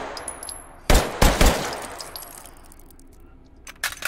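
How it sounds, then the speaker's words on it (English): Three sharp gunshots crack in close succession early on, then a quieter pair near the end, fired in the VR shooting game H3VR over a low background hum. "It's all about shooting guns in VR."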